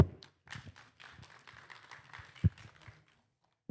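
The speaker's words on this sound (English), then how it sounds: "Another round of applause." A conference audience applauds after a speech at a Kenyan health event, a brief, moderately distant patter of clapping lasting a few seconds before fading out.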